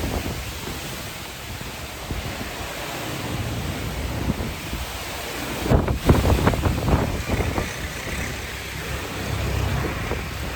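Strong cyclone wind in Chennai roars continuously, buffeting the microphone with gusty rumbles that swell and surge, no voices heard.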